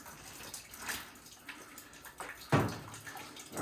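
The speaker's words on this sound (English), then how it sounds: "I may get a little bit of water there." Water spilling and splashing as a boiler expansion tank is removed from a Burnham ES26 gas boiler, irregular wet splashes with one louder gush, close by.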